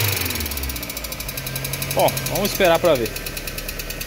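A VW AP engine with hydraulic lifters knocking and low oil pressure idles with a steady, close mechanical clatter. Someone speaks briefly over the running engine.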